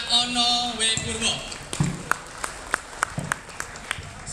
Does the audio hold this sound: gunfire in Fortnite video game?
no